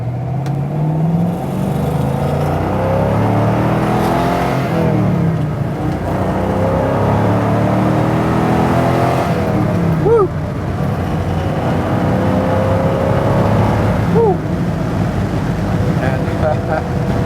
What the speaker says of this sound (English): It definitely accelerates. You know you're in a big block car.